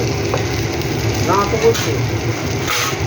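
Teasel gourd frying in a pan with turmeric makes a steady, close sizzle that hisses continuously under a few faint clicks from the cooking, with no one speaking.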